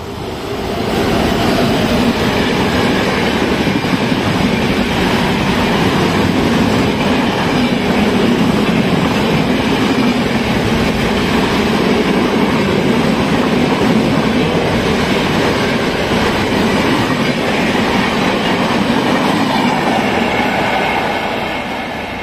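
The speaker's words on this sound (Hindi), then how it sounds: "ट्रेन बिल्कुल शांति से आती है और स्पीड के साथ चली जाती है।" Passenger train on the Moradabad to Dehradun line heard from on board while running at speed, a loud steady rumble of wheels on rails with faint clickety-clack throughout.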